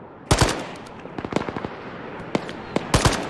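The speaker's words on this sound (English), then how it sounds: "Machine gun!" Machine gun fire in the Arma video game, Chernarus battlefield during an assault on an enemy bunker: short loud bursts of rapid shots near the start and end, with scattered single cracks and distant gunfire between.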